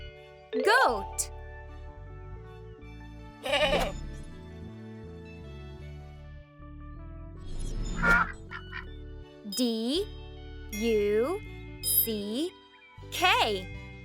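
A duck quacks in a series of short nasal calls, spread out and then coming in quicker bursts toward the end, over soft background music.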